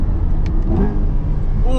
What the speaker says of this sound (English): let's see what happens if we floor it